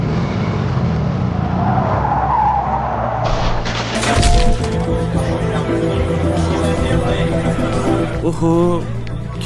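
A motorbike roars past and its tyres skid on a road during an accident, loud and close, with a crash-like burst and the noise of a crowd gathering, plus voices.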